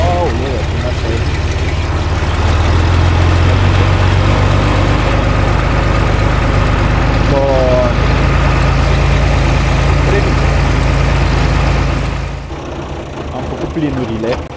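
A farm tractor engine idling close by during wheat sowing preparation, a loud, steady low rumble that holds for most of the stretch and then drops off near the end.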